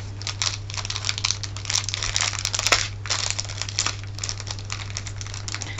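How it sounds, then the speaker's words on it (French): Crinkly paper packaging rustles and crackles continuously as it is handled and pulled open, with a steady low hum underneath. "Et j'aime pas ce papier parce qu'ils font trop de bruit."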